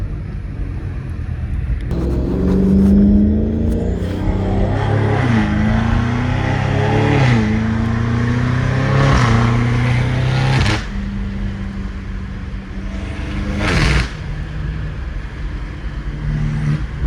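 Catless turbocharged BMW M5 revving loudly, repeated rising and falling engine bursts with turbo whoosh and sharp exhaust pops, close and aggressive, fading to a lower rumble near the end.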